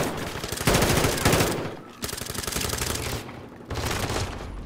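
Rapid automatic gunfire in Call of Duty Modern Warfare 2 multiplayer, loud sustained bursts of shots separated by short pauses, heard on its own without talk.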